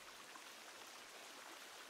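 Waterfall in the video game The Forest, a very quiet, steady rushing wash of water with a fine, even texture and no voices.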